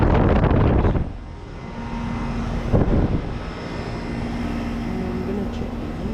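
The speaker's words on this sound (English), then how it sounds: "Oh, it's the Goodman that's running." A Goodman HVAC unit with a scroll compressor runs at a business complex in Orlando, giving a steady mechanical hum and whir with a faint tonal drone. Louder rushing noise opens the clip, and a brief bump of handling noise follows.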